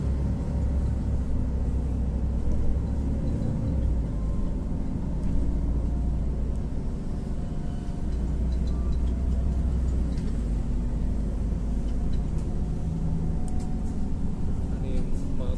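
Steady low engine rumble and road noise inside a TransJakarta city bus on route 9D in Jakarta, a continuous droning cabin sound with no clear speech.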